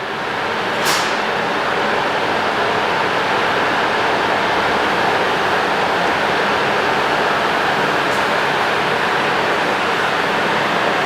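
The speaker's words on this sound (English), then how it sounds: "they're going to roll it onto the rolling road here and actually simulate riding it" An MV Agusta motorcycle running on a rolling road test rig in the factory, a loud, continuous broadband roar of engine and spinning rollers with steady level and a couple of brief sharp clicks.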